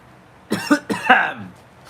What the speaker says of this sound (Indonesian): Batuk lagi super.